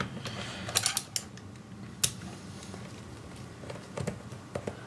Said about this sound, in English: let's start by removing some of these lower chassis screws